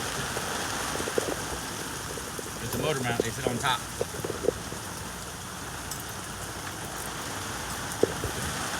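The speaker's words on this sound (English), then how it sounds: "Progress in the rain." Steady rain pours on a workshop during engine work, a constant wash of drops drumming on a surface, with someone speaking briefly over it and a few sharp knocks.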